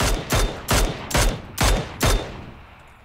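Five loud gunshots in PUBG fire at an even pace, close and sharp, each with a short tail, and then the shooting stops.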